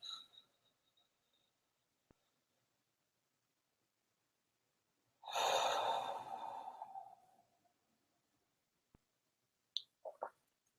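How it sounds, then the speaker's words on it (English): A single deep breath out through the mouth, a soft, breathy exhale lasting about two seconds amid near silence, followed by faint clicks. "take a deep breath, breathing in and out of the mouth"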